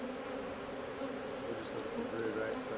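Honey bees at an open hive hum in a dense, agitated buzz, close and continuous for a few seconds.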